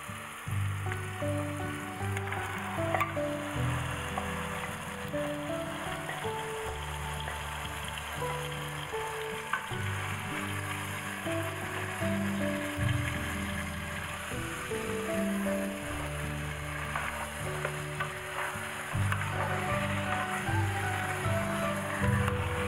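Marinated beef hits a pan of fried onions for beef biryani, giving a continuous close sizzle over a steady low droning tone.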